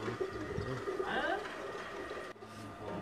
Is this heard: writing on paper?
no